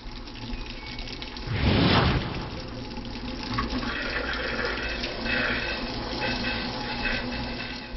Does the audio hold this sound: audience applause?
no